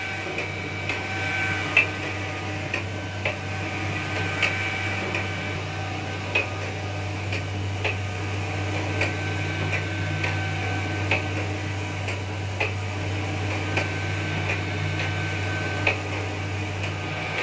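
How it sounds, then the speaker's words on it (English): An Océ Arizona 550 GT flatbed printer lays down a base layer of white ink, a steady machine hum and whine broken by regular sharp ticks of the carriage roughly every second, close and continuous with no voices. "You can see that the printer is printing a layer of white ink as a base"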